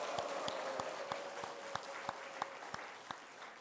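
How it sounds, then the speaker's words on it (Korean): A church congregation at a Sunday service claps in unison, a regular rhythm of about ten sharp, evenly spaced claps over a soft background hum. "다시 한번 박수."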